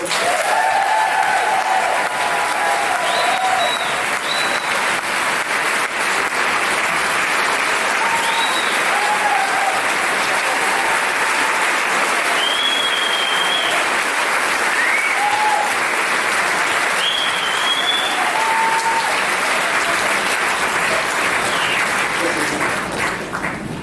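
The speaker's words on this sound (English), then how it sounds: "A big applause for Rita Mae Brown." Sustained, loud audience applause for author Rita Mae Brown at a Women's Week event, steady dense clapping from a crowd throughout with no talk over it.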